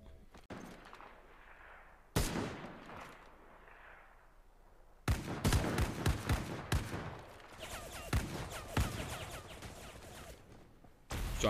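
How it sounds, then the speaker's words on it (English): Gunfire in the video game Cyber Hunter: sharp bursts of rapid shots crack out in clusters, some isolated, others in dense volleys, with quieter gaps between. "Shots from the right."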